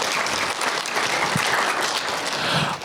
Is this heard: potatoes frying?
no